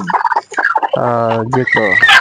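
Domestic fowl on a small poultry farm give loud, close, harmonic gobbling and clucking calls in quick bursts, with the birds sitting on eggs in coops behind wire mesh.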